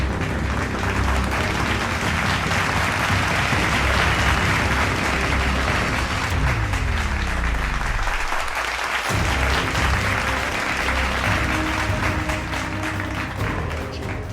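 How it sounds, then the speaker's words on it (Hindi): Sustained applause fills the Canadian parliament chamber as Zelensky is welcomed alongside Prime Minister Justin Trudeau, a dense, steady wash of many hands clapping throughout, with a brief dip near the middle before resuming. "पहले तालियों के साथ ज़ेलेंस्की का स्वागत हुआ।"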